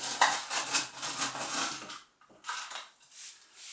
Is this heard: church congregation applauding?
no